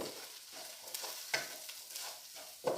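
Mutton masala mixed with turmeric, garam masala, cumin and coriander powders in a pan, giving soft scraping stirs and faint sizzling with a few sharper spoon scrapes near the end, close and alone.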